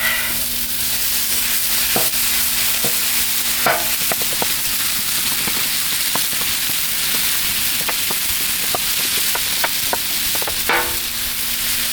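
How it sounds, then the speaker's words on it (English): Ground beef sizzles steadily in a very hot pan while a utensil chops and scrapes through it, sharp clicks and taps scattered over the constant frying hiss. "We're going to put our beef on there, and we're going to go ahead and chop it up."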